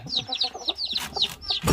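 A hen clucks repeatedly in quick, close bursts, with a scratchy rustle toward the end.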